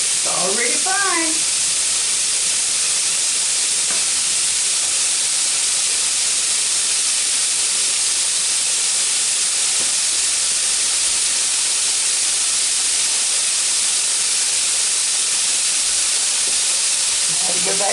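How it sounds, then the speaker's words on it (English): Ground beef frying in a pan gives off a loud, steady sizzle and hiss that fills the whole stretch, with a short burst of tonal sound at the start. "It's already frying."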